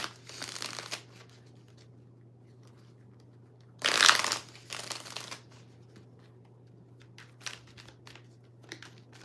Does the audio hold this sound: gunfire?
no